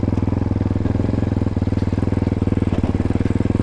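Motorcycle engine running steadily in first gear as the clutch is slowly let out, a close, even low throb with a fast regular pulse and no strong revving.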